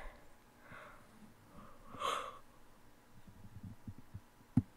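A person yawns once midway through, a drawn-out breathy sound that swells and fades, up close but fairly soft against a quiet room, followed by faint low thumps and a sharp click near the end.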